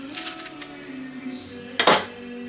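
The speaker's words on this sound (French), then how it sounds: "Pour faire l'abdika des oignons, on les coupe en 4." A kitchen knife quarters onions on a board, with light clicks at first and then one distinct knock of the blade hitting the surface, set against quiet background hum.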